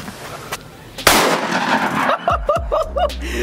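A loud, booming blast from a double-barrel 12-gauge Stagecoach shotgun fired at trees during a hog hunt, followed by echoing rumble and scattered clattering noises outdoors.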